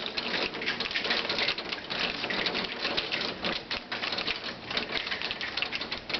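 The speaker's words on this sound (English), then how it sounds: "now we're mostly back to rain." Steady rain patters densely on surfaces after a July hailstorm in East Central Alberta, a continuous close crackling hiss of drops with no voices.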